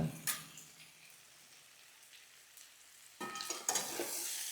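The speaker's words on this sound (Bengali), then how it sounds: "দিয়ে আবার কিছুক্ষণ এটাকে নাড়ব" Cauliflower curry, dusted with ground coriander and cumin, is stirred in a pan with a faint, patchy sizzle and soft scraping, quiet and close, then louder stirring bursts toward the end.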